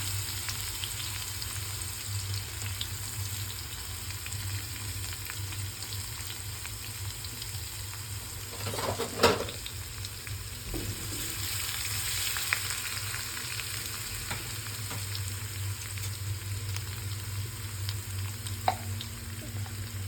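Mustard seeds and crushed garlic frying in hot oil in a pan, giving a steady, continuous sizzle with a few brief clatters and pops, close and alone with no voices.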